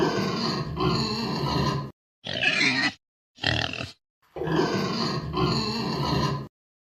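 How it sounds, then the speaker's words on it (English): A pig grunts and oinks in rough, throaty bursts: a long stretch of grunting, two short snorts separated by gaps, then another sustained run of grunts, all close and fairly loud. "It's a pig! The pig says oink, oink!"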